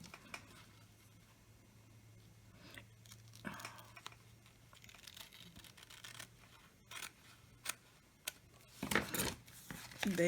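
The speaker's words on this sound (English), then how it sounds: "And just trim the other side." Scissors snip and trim paper for a small glue book, giving scattered soft cuts and rustles, with a few sharper snips near the end, heard close and quiet with no speech.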